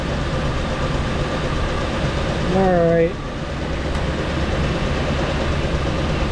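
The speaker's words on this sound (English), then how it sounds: "You could hear the engine speed up when I unplugged my little tester" A 1966 Ford Galaxie 500 convertible engine hums steadily, then its pitch rises briefly as it revs up before settling back; a voice speaks a word.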